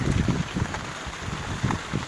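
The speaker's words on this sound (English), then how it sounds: "And it's very windy." Strong gusty wind at Morib beach buffets the microphone in low rumbling bursts, with a steady wash of heavy rain in the background.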